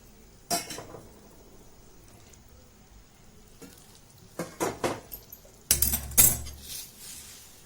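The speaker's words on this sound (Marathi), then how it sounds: "चांगलं हलवायचं आणि आपल्याला जसं पाहिजे तसं घट्ट पातळ तसं पाणी घालायचं हिच्यामध्ये" A metal spoon stirs village-style dal and brinjal curry in a pot as water is added, giving sparse scraping clinks and knocks against the vessel in short irregular bursts over a quiet background.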